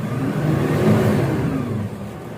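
A Toyota Hilux with a low-power fault is started and revved, its engine close and loud, swelling to a peak then easing back over a couple of seconds with no talking.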